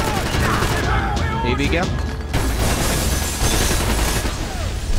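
Gunfire from the video game Max Payne 3, rapid loud bursts crowding the whole clip with a short lull midway, while someone talks over the shooting.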